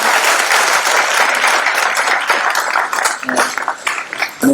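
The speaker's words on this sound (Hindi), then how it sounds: "एक जोरदार ताली उनके लिए।" Loud, sustained applause from an audience at an International Yoga Day celebration, dense clapping filling the whole stretch and thinning slightly toward the end.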